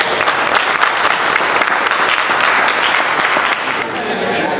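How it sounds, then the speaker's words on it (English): A seated audience at a talk on African and African American relations claps in a loud, dense burst of applause that runs the whole time, with some voices mixed into the crowd. "just give yourselves again a round of applause"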